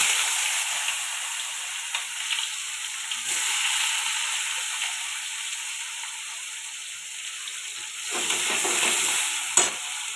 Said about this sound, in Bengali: তেলটা হয়ে গেছে, এবার পেঁয়াজ আর কাঁচা লঙ্কা দেব।